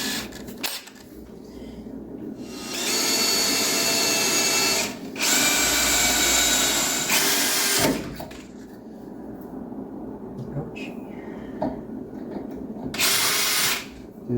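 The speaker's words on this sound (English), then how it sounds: "now we'll just grab a small bit and get a pilot hole started" Power drill boring a pilot hole with a small bit during a Dodge Dart slant six to V8 engine conversion, loud whirring bursts starting and stopping several times at close range.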